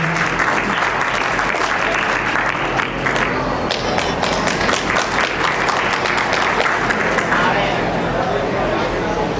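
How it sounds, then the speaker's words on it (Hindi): Crowd applause welcoming guests at a national-level education awards ceremony, dense sustained clapping from a large audience that fills the whole stretch, loud and continuous, with a brief dip in the middle before swelling again. "तालियों से स्वागत कीजिए।"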